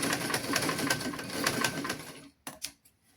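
A sewing machine stitching a children's garment runs in a fast, steady clatter for about two seconds, then stops, and a few sharp clicks follow.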